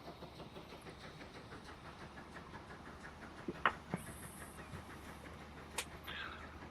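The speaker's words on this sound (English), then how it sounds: "Nothing like a good old Great Western tank." A Great Western tank steam locomotive runs in Transport Fever 2, giving a faint, steady rolling rumble with soft rhythmic rail clicks and a few brief knocks and a short whistle-like tone.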